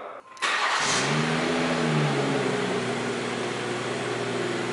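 A newly bought car's engine revs up after a short start, the pitch sweeping upward and back down before settling into a steady, fairly close mid-pitched drone with no talking.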